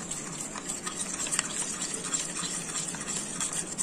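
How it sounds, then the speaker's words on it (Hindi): Custard powder is mixed with milk, giving a soft continuous swishing of a spoon through liquid, steady and fairly quiet with no talk. "उसमें मैं मिल्क ऐड कर दूंगी जिससे कोई भी लम्स रहेगा नहीं, अच्छी तरीके से हमें इसे मिक्स कर देना है।"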